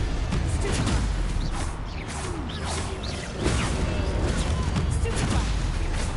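Hogwarts Legacy spell combat rings out with repeated whooshing casts, crackling bursts and explosive impacts in quick succession, loud and dense, while a voice shouts spell names over the action.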